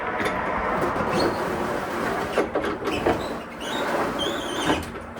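An aftermarket motorized window regulator in a VW Baja Bug door slides with a steady whirring drone, punctuated by a few squeaks and clunks, close and fairly loud.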